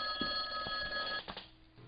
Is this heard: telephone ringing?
yes